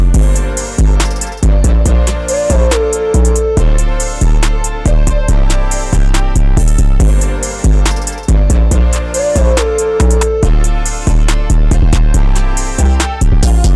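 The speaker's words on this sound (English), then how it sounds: "Who would ever want a beat that sounds like this?" A poorly mixed, unmastered hip-hop beat plays loud and alone, with punchy repeating drums, booming low end and a looping melodic line.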